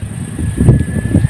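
Brief burst of strong typhoon wind on a mountain, a close, gusty rumble pounding against the microphone and peaking midway.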